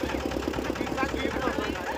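A boat's engine runs steadily at idle with a low, even mechanical throb and rhythmic knocking pulses, close and continuous throughout.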